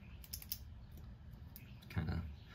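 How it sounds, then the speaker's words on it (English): A pen clicks in a quick series of small sharp taps, close by and quiet, ending in a slightly louder clack. "I gotta put this pen down, keep clicking it."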